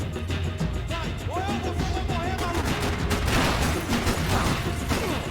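Gunfire from Max Payne 3 rattles in continuous bursts of shots over a busy action soundscape, steady and fairly loud throughout.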